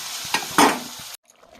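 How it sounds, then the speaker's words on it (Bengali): Water is poured into a vegetable curry frying in a pan, giving a short, loud rushing hiss and sizzle burst that cuts off abruptly into near silence. "তরকারিটা কষিয়ে নিলাম, জল ঢেলে দিচ্ছি।"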